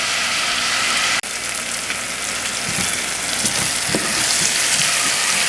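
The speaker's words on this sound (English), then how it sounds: "Now we're just gonna let the onion cook" Onion cooking in a pan on medium heat gives a loud, continuous sizzle with a brief sharp click near the start and a few soft stirring sounds later.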